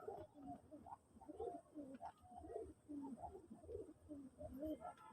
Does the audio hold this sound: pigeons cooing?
yes